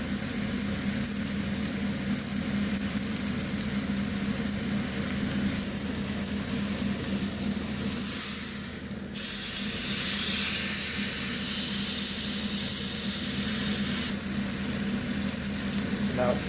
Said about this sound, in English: So now it's pretty much seared all over.